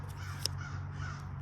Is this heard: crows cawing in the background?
yes